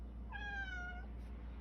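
A house cat gives a single clear meow lasting under a second, near and alone over a faint low background hum.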